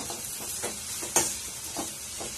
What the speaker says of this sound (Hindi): प्याज फ्राई हो रही है